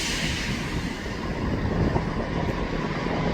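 An Avanti train rolling into Crewe Station, a continuous broadband rumble and rail roar from a passing train, steady and fairly close with no voices.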